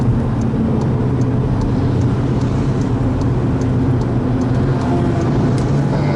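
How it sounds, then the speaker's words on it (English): A Volkswagen Polo GTI engine at full power drones loud and constant from inside the cabin on the Nurburgring Nordschleife, a steady powerful hum with road noise and no talking. "And on the power again. Full power, aim for the 11 kilometer mark."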